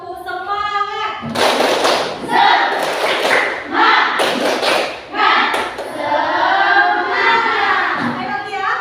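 A classroom group performs the tepuk semangat spirit clap, several bursts of rhythmic clapping and hand thumps alternating with children chanting along in loud unison.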